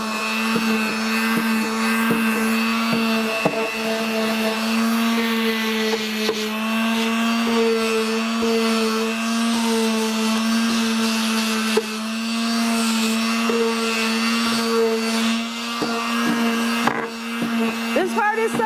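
Power tool distressing painted furniture, a steady loud whirring drone with small dips and scuffs as it works across the surface, close and continuous throughout.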